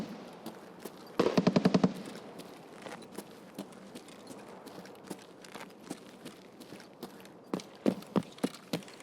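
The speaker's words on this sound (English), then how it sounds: "you can hear the shots up ahead at Embercon" Distant gunfire up ahead near the Embercon extract in the video game Escape from Tarkov: a fast automatic burst early on, then scattered faint single shots and short volleys, heard from inside a building.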